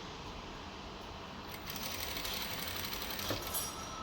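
A sewing machine hums steadily while stitching fabric piping, a continuous, fairly quiet mechanical whir that gets slightly louder partway through, with no voices.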